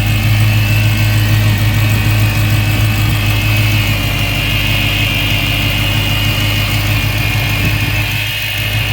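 A Dodge Hellcat idles under the hood after a cold start, its engine a steady low rumble with a thin whining tone from a worn supercharger bearing running constantly above the idle, loud and close throughout.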